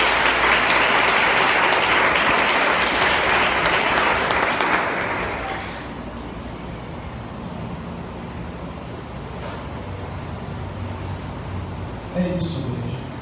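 A church congregation claps for Jesus. The applause is loud and dense at first, then fades to a quieter murmuring room after about five seconds, and brief voices come up near the end.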